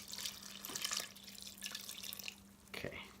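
Water pours and splashes into a bowl of pizza dough mixture in a home kitchen, a steady moderate trickle with a short break and a fresh splash toward the end.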